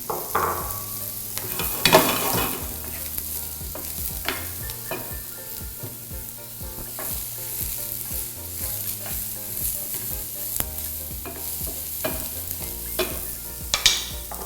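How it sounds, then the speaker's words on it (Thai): Mushrooms fry in olive oil in a hot pan with a steady sizzle, punctuated by occasional scraping and stirring clatters, close and continuous. "พอกระทะร้อนใส่เห็ดลงไปฮะ"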